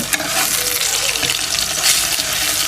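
Egg noodles with masala are stirred in a hot pan, a loud, steady sizzle and frying hiss running throughout with scraping stir movements close by.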